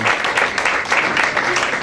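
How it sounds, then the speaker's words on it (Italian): Dense crowd applause at a national cartoon cover band gathering, a steady wash of many hands clapping at once, loud and continuous. "E meriterebbe un applauso"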